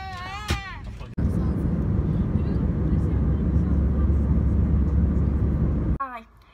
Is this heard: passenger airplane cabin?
yes